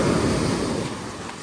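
Sea waves wash onto a beach during a morning walk along the shore, a steady close rush of surf with some wind noise, and no talking.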